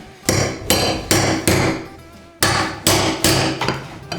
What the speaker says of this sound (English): I'll follow behind you with the hammer